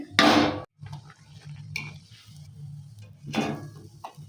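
Bread pakora frying in hot oil: two loud bursts of sizzling, each as a piece goes into the pan, with a low steady bubbling hum between them.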